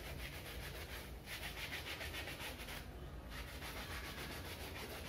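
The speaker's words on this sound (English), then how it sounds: "Now, just keep scrubbing." Close, rhythmic scrubbing as a Scotch Brite pad rubs back and forth over cricket pads, a continuous raspy swish in steady strokes with brief pauses and no voices.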